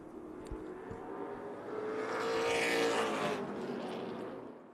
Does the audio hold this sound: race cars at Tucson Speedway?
yes